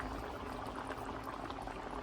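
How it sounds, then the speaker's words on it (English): A pan of paneer butter masala boils on the stove, a dense, steady bubbling and popping at low level throughout, with no voices. "Now you see the paneer is really nicely boiling and giving a good flavor."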